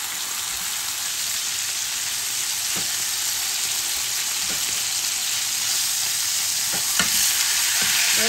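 Garlic and butter sizzling steadily in a hot pan while preparing roast beef, a constant bright crackle with occasional small pops and spatters, heard alone without talk.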